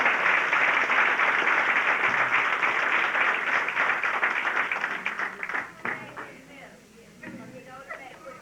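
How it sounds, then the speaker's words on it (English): A crowd applauds at a 1986 vocational training center graduation in St. Louis, with loud, dense clapping that thins and fades after about five seconds, leaving a voice speaking. "Let's give a big hand of applause for computer data entry operators."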